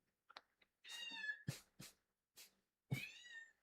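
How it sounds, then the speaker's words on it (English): A cat meows repeatedly indoors, a series of short and drawn-out mews with pauses between them, fairly close and clear with no talking over it. "Those cats just can't leave me alone."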